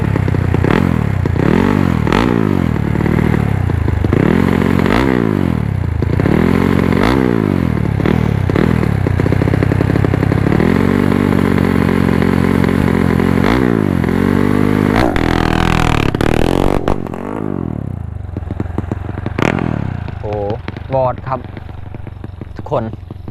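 A Honda Wave 110i fitted with a 125cc four-valve engine revs hard and launches, with loud, close engine tone rising and falling in repeated sweeps before a longer pull, then the bike moves off.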